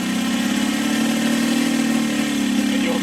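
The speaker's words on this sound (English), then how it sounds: "So now you just want to slowly advance the throttle," A Saito FG60 four-stroke model aircraft engine runs steadily during break-in, holding a loud, even drone with a low firing buzz and no change in pitch and no talk over it.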